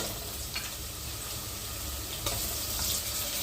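Onions, green chillies and carrots fry with ginger paste in a pan for a milmaker biryani, giving a steady close sizzle with light stirring scrapes and small clinks throughout.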